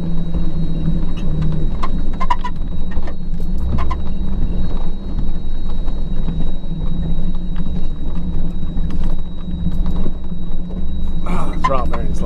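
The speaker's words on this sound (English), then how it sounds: "Throttle bearing's loud." An off-road vehicle on a rough trail in Santa Cruz with a loud throttle bearing drones steadily, a constant low hum over rumbling, bumping road noise that runs throughout.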